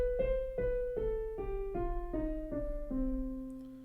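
Eight sustained pitched notes of a melodic minor scale with raised sixth and seventh degrees sound one after another in steady rhythm, moderately quiet and alone, with a low hum underneath.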